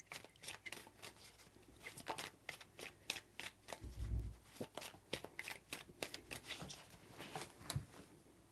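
Tarot cards are shuffled by hand, a quick run of crisp riffling slaps and soft flutters that repeats across the stretch, close and fairly quiet with no talking.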